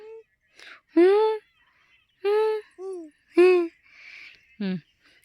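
Loud, harsh nasal calls from farmyard fowl, several short honking cries in an uneven sequence, close by, with no talking.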